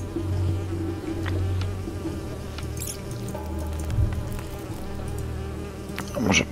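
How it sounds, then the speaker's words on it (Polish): Bees buzz steadily in the hidden-object game Nightmares from the Deep 3: Davy Jones, a close, continuous droning hum that swells and fades slightly, with faint game sounds underneath. "Jeszcze trzy pszczoły zostały."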